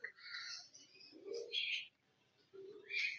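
Birds calling at an aviary in Yercaud, a mix of cooing and chirping in several bursts, fairly close, with no talk.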